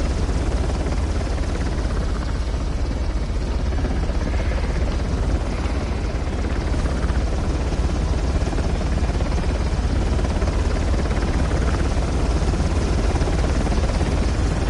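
A helicopter hovers overhead in the Uncharted video game, a loud, constant rotor drone with heavy low rumble filling the whole stretch without pause.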